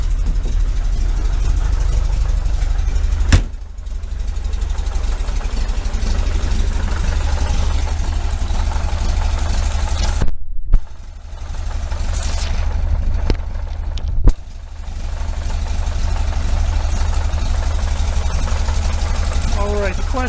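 The air-cooled engine of a 1973 VW Super Beetle with a Dellorto FRD 34 carburetor idles with a steady low rumble close by. Someone talks over it, and a few brief throttle blips and clicks break in.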